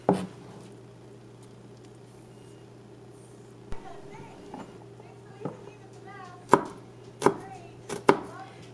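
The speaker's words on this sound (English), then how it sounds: "Or you can just mince it like this" A knife chops garlic on a cutting board for stuffed squid, scattered sharp taps that quicken into a cluster of close knocks near the end, with a quiet background hum.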